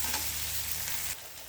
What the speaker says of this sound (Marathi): कढईत तेल घातले. तेल गरम झालं की कांदा घातलेला आहे